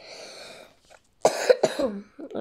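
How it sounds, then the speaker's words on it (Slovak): Two sharp coughs in a row, close to the microphone, followed by a brief throat sound, after a stretch of quiet background hum. "Prepačte, že kašlem, lebo som nakladnutý, tak prepačte za to."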